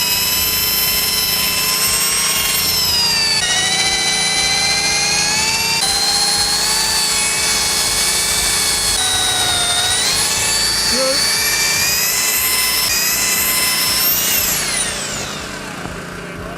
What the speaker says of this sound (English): Just look at the pressure Phil has to put on the drill to force it through.